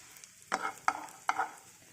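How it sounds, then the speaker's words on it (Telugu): Bread slices frying in ghee in a pan for double ka meetha sweet, heard as three short bursts of sizzling and scraping spaced about half a second apart, with quiet between them. "ఇప్పుడు బ్రెడ్ని ఫ్రై చేద్దాం"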